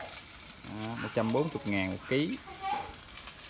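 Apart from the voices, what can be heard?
fish cakes frying in an iron pan over a wood fire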